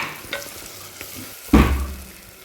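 Soaked jeera rice goes into fried masala in a pan for ghee rice, making a sudden loud sizzle and stir midway through, preceded by faint scraping and quiet kitchen noise.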